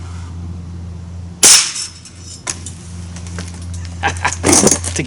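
A single sharp shot from a Ruger Air Hawk .177 caliber break barrel air rifle by Umarex firing lead pellets, one loud close crack followed by faint clicks and handling noises.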